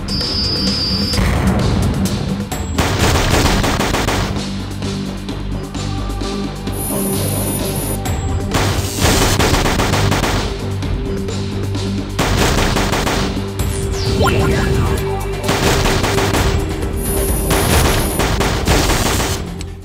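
Rapid bursts of synthesized gunfire from a weapon in the Inkvaders iPhone game, dense and loud over catchy game music, with occasional booms and chimes.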